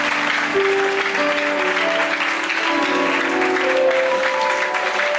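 A church congregation at a lively prophetic service claps and cheers together, a steady, dense wash of applause held at full strength from start to finish, with no voices standing out.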